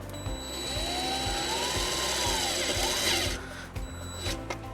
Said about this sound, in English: Now we're going to take our provided self-tapping screw and ground the white wire to the frame.